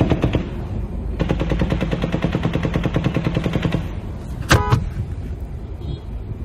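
Gunfire during the Las Vegas shooting near Mandalay Bay: a long burst of rapid automatic shots, distant and echoing, then a brief closer clatter and quieter ambient sound.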